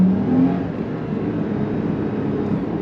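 A Lexus IS250/350 fitted with a Revel Medallion exhaust accelerates at wide open throttle, a steady, close, low engine drone with a brief rising note at the start and no talk over it.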